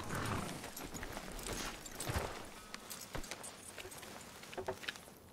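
Horse hooves clop along in a roleplay video game, a quiet, irregular run of thuds and taps over low ambient noise, with no clear whinny.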